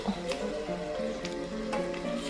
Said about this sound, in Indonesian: jadi aku goreng dulu